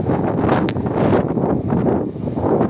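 Strong wind buffeting a FIMI X8 Mini drone's microphone in flight in sport mode, loud rough gusts, a continuous roaring noise without any voices.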